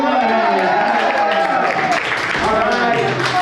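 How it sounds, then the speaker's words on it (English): A stand-up comedy show audience claps for a comedian leaving the stage, a dense burst of applause mixed with talking and a voice speaking over it. "give him a clap"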